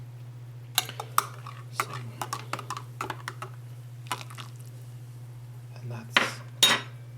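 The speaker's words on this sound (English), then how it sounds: "the next step is to mix it one more time" A spoon stirs coffee grounds inside a Bodum Brazil 8-cup French press, giving irregular light clinks and scrapes against the glass over a low steady hum, with a couple of brief spoken words and a louder clatter at the end.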